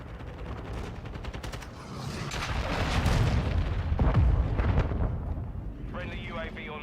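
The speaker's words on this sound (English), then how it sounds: "Hostile cruise missile incoming." Loud, continuous rumbling blasts and gunfire fill a Call of Duty Modern Warfare II match during a cruise missile strike, swelling at the middle as explosions roll together, with brief game voice chatter and electronic chirps near the end.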